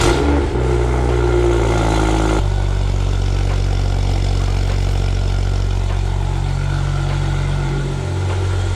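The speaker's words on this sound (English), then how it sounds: "Proper cold start with the valves closed." A BMW M2 F87 engine cold-starts with its exhaust valves closed, a sharp loud rev at ignition settling within a few seconds into a steady, deep, rumbling high idle that continues throughout.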